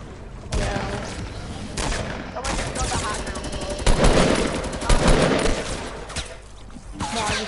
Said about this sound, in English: Oh, we're getting shot.